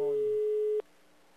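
A single steady telephone busy tone after a dropped call rings out clearly for under a second, then cuts off abruptly into near silence.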